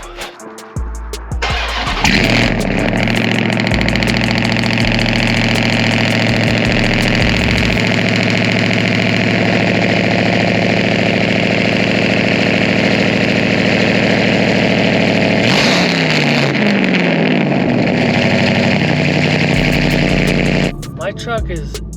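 A straight-piped, cat-deleted Dodge Ram TRX roars to life and settles into a loud, deep, rumbling idle close up, with brief revs near the end.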